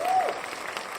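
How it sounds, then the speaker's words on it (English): A short patch of audience applause, a second of soft, steady clapping with a voice briefly audible over its start. "Thank you for the applause."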